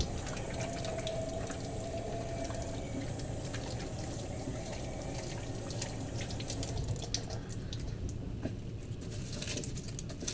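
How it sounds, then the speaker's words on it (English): Hands being washed under a running kitchen tap after handling a cut Carolina Reaper pepper: a steady rush of water into a sink, with splashing and patter shifting as the hands move, close and continuous, no talking. "then I'm going to give my hands a really good wash"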